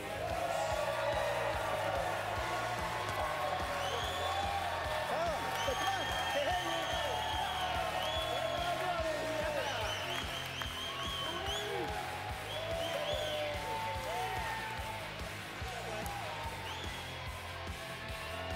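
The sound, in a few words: crowd cheering and applauding at PBA bowling league semifinals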